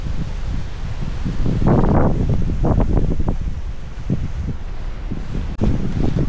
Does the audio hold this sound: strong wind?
yes